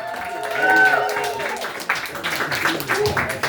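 A comedy club audience applauding and cheering at close range, a warm swell of clapping and crowd noise that holds for a few seconds while a host talks over it.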